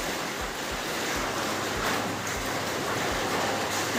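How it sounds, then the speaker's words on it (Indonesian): Heavy rain pours down outside a home kitchen as a dense, steady hiss with a faint low rumble beneath, constant throughout without pauses or talk. "Makanya suaranya agak kemerancang ini karena hujannya deras ya."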